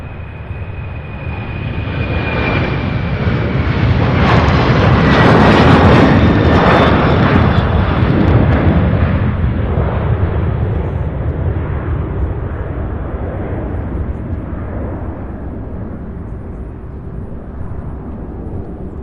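A large aircraft takes off at Louisville International Airport near the UPS Worldport. Its loud jet roar swells to a peak and then slowly fades as it climbs away, with no voices.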